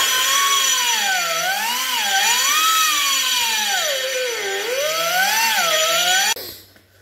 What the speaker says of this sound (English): So I'm gonna get the die grinder out and get after that.